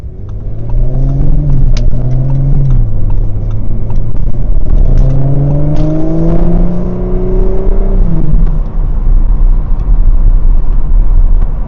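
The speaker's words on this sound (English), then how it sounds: "you really have to slam the gas and take off" An Audi S5 engine in S mode revs hard and climbs through the gears, a loud, steady roar rising in pitch, dropping at each shift, then climbing again.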